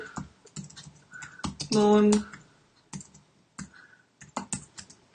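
Fingers type on a computer keyboard in close, irregular clusters of sharp clicks, with a brief steady tone sounding partway through.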